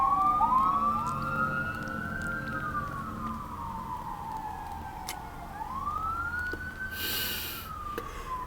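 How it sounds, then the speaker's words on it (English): Emergency vehicle sirens wail outside, rising and falling in long sweeping tones that pass at moderate distance over a low traffic rumble. "the sirens are distracting me"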